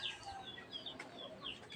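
Chickens cluck softly and intermittently nearby in a newly built coop, a few scattered calls over a faint background hum.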